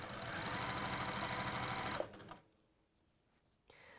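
A sewing machine stitches fabric in a fast, even mechanical whir for about two seconds, then stops, leaving near-quiet with a faint click afterward.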